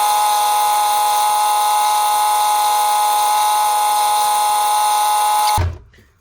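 A wooden coffee tamper spins on a lathe while 240 grit sandpaper on a foam backing works it, a loud steady motor whine with bright ringing overtones that runs unbroken and then cuts off abruptly near the end.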